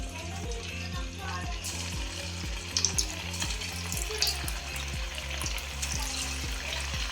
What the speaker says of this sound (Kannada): ಇದನ್ನು ಎಣ್ಣೆಲ್ಲೇ ಕಾದೆಣ್ಣೆಯಲ್ಲಿ ಬಿಡಿ